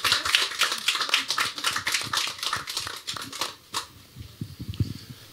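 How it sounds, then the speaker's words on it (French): Scattered clapping from a small group at a live broadcast event, loud sharp claps in a quick irregular run for about three seconds before thinning out into a few fading final claps. "Vous pouvez les applaudir."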